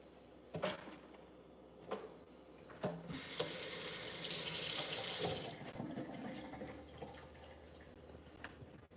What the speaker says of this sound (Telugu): ఇలా కడిగేసి తుడిచేసుకుంటానండి